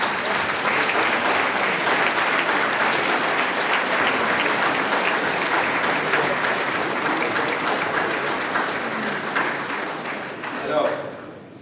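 A crowd in a town hall at a mayor's New Year greetings in Saint-Maur, Indre, claps loudly and continuously for several seconds. The applause thins slightly toward the end, with a faint murmur of voices underneath.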